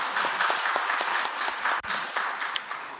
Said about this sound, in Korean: 영광의 박수를 주님께 돌리십시오.